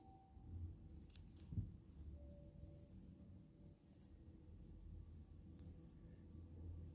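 Scissors snip crochet yarn while a pair of baby sandals is made, a quiet close sequence of small crisp cuts and rustles against a faint room background.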